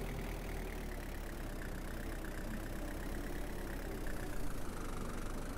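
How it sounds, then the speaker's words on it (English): A truck engine idles with a steady, unbroken low drone and a faint knocking texture while the truck is being parked in a garage. "Since we got a garage now, let's park our truck here."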